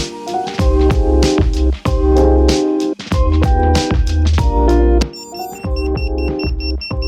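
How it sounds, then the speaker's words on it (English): Rapid high-pitched electronic beeps from an FPV drone's locator beeper start near the end, chirping in a steady repeating pattern over a loud rhythmic background of music and thumps. "I have the beeper on."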